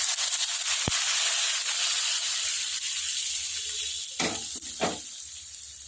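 Spiced tempering oil with kalonji and brown mustard seeds sizzles in a pan for amla and red-green chilli pickle, a soft steady hiss broken by a sharp early pop and two bursts of louder crackling near the end; no talking.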